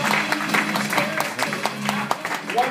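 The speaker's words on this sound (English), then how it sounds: "Another round of applause." Audience applause at a Halloween night improv and sketch comedy show, a brief burst of clapping from a modest crowd with some voices mixed in.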